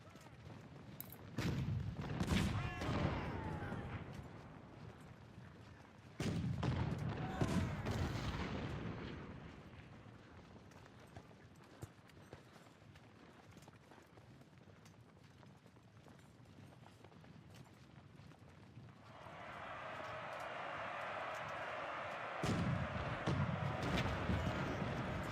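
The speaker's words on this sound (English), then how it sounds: "I can stand here and fire artillery all day." Artillery fire in the Civil War strategy game Ultimate General, distant booming volleys that come in bursts with quieter gaps between them, followed by a sustained noisy wash of battle toward the end.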